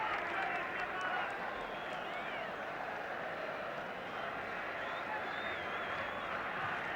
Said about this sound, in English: Tremendously noisy crowd.